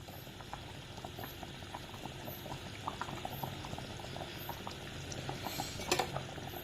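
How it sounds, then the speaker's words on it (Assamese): A sour curry of jackfruit seeds and pre-fried fish pieces boils steadily in a pot, with continuous close bubbling and popping throughout and a slightly louder burst near the end. "ইয়াত তৰকাৰীখিনি উতলিছে"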